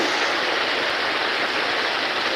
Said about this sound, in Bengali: হঠাৎ করে আকাশ মেঘলা হয়ে আবার এই বৃষ্টি নেমে গিয়েছে